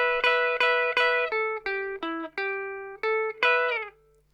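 Rockabilly guitar licks, the opening phrase of a song in E, ring out as a quick run of about a dozen crisp, clearly picked notes, some repeated and some bending downward, played alone and close.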